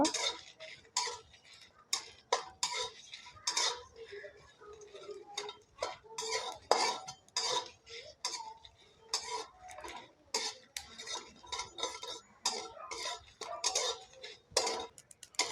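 Dry red chillies, cumin and garam masala frying in a pan for a Rajasthani-style pumpkin curry, with a steady run of close, sharp ticks and scrapes of a utensil stirring the spices against the pan.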